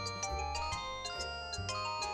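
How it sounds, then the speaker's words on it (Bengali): A cartoon phone's ringtone plays as a repeating electronic melody, bright chiming notes pulsing over a steady low tone, loud and close with no talk. "বল্টুর ফোন, আবার কি হলো কে জানে।"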